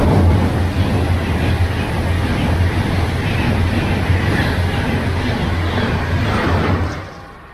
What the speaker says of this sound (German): jetzt fährt noch ein Zug durch